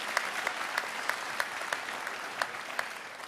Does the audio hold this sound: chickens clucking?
no